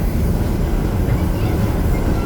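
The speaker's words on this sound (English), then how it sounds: "So Seraphine, how are you liking your very first train ride?" A heritage train at a Colorado railway museum climbs a steep 4% grade, giving a steady low rumble of rolling wheels and cars heard from on board, continuous and fairly loud.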